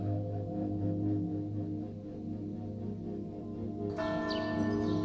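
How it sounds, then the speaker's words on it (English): A clock tower church bell strikes with a deep ringing tone, one steady sustained toll that carries on, and a brighter new strike enters near the end. "Clock tower has struck."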